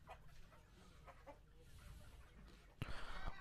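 Aseel and laying hens on a poultry farm in Bilaspur cluck in short scattered calls at moderate distance, with a louder burst of fluttering and clucking near the end, and no talk.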